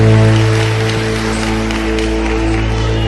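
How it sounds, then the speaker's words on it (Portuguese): A church congregation applauds, a steady broadband wash of clapping close and full for the whole stretch, with a sustained low hum or organ-like drone underneath. "Os que podem, tomem o seu assento aplaudindo a Jesus"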